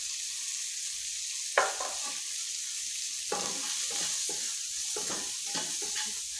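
Shrimp sizzles steadily over low heat in an oiled pan with salt and a little sugar, and a spoon stirs it now and then, scraping and knocking against the pan at close range.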